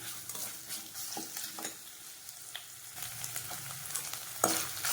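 Onions sautéing in a pan for cabbage rice, a steady close sizzle with scattered stirring scrapes and a sharper clatter near the end, no talking.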